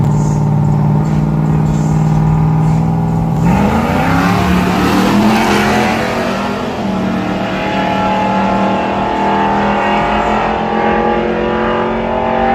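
Loud street cars drag racing down a strip at a night event, engines roaring hard and climbing through the gears as they pass, a steady close wall of engine noise with a brief rev change partway.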